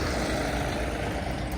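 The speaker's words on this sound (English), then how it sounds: "Got the John Deere tractor." A steady, rumbling John Deere tractor engine idles nearby, a continuous low drone without any change in pace.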